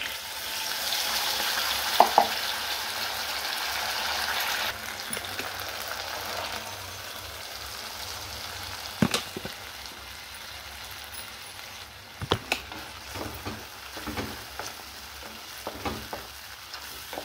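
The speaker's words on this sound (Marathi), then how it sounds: "तेल गरम झालेलं आहे, तेजपान घालते, दालचिनी, वाटण घालून घेते" A loud, steady sizzle as bay leaf, cinnamon and ground masala paste hit hot oil, with scattered stirring clinks and scrapes that continue as the frying settles down. No voices are heard.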